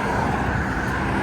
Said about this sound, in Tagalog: Tignan niyo naman yung mga sasakyan, ang bibilis.